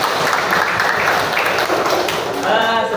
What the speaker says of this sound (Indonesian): Oke, tepuk tangan bagi kita.